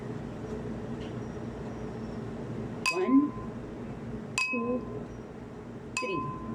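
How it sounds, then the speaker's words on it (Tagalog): A metal spoon taps a drinking glass three times at roughly 1.5-second intervals, each bright clink ringing briefly above steady background noise. "katukin po ninyo ang baso pag ganito"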